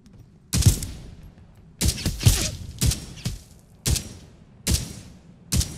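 Gunfire in the military shooter Direct Contact, set in Afghanistan: a series of sharp, loud shots in separated bursts, some doubled, each with a short ringing tail, close and with no talk over them.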